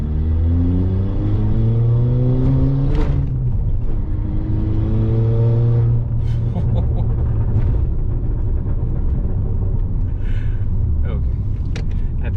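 A Skoda Laura vRS engine revs hard and accelerates with a deep, loud rumble, then settles into a lower drone with a few sharp exhaust pops and crackles on top.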